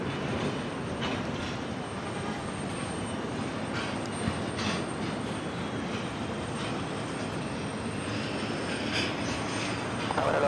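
A Turkish Airlines 787-9 Dreamliner taking off from runway 13R at New York JFK, a steady broad distant engine roar holding level throughout the whole stretch, with no voices.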